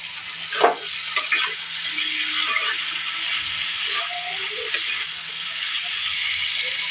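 Okra (bhindi) sautéing in a pan, a soft continuous sizzle broken by a few scraping stirs and clinks of a utensil, close and fairly quiet.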